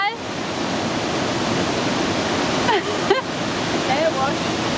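The Pailón del Diablo waterfall in Ecuador roars as a loud, continuous wash of rushing water heard near, with faint voices briefly calling over it.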